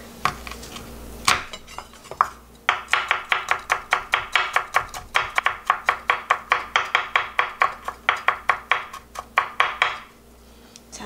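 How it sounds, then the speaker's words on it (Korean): A clove of garlic is minced with a kitchen knife on a cutting board for chicken-breast chogyetang. Close, rapid, steady chops fall in a long even run of sharp taps, starting after a couple of separate knocks and ending abruptly. "마늘 한 개 다져서 넣겠습니다"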